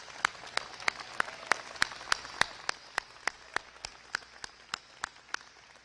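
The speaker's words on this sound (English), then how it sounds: "Let's give them all a big round of applause" Clapping at a gathering in the Blue Room honouring young people, heard as sharp, evenly spaced claps in a steady rhythm of about three per second, crisp and close.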